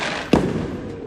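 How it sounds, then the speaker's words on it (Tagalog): A single firework bursts with a sharp, fairly close boom that fades into a steady background rumble. "Nabili na nga natin na dyan ng fireworks."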